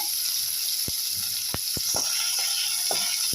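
Onions sautéing in an oil pan for a brinjal and broad bean sambar, with a steady close sizzle and a few sharp scrapes of a spoon against the pan.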